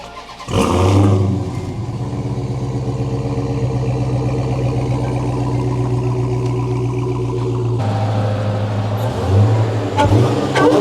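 A Dodge Charger Hellcat Widebody engine cranks and fires up with a loud roar, then settles into a deep, steady, rumbling idle close by, dipping briefly before a couple of blips of revving near the end.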